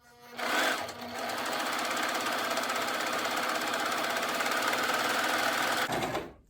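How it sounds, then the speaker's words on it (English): A serger runs an overlock stitch along flannel fabric with its knife disengaged, a loud, steady mechanical whirring that starts abruptly, holds for about five seconds, and stops, with no voices. "we're just going to finish it off with our overlock stitch"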